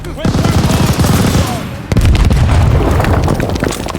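Wartime combat in Call of Duty: Vanguard: rapid machine gun bursts rattle continuously, then a loud grenade blast booms near the two-second mark, followed by more heavy gunfire and rumbling explosions.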